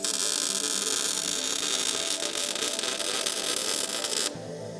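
A welder runs a bead on custom V8 motor mounts for a 1965 Mustang II IFS swap, giving a steady, loud, close crackling buzz for about four seconds before it cuts off sharply.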